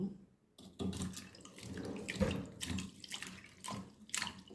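Tamarind water pours and splashes in short bursts into a cooking pot, close and fairly quiet.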